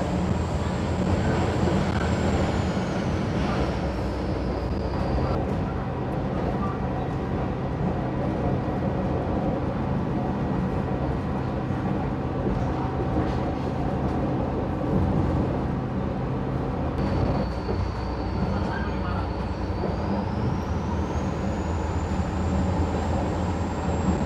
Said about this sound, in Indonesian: Untung keretanya pelan ya, coba kalau keretanya kenceng mungkin udah hoyak-hayek banget ini.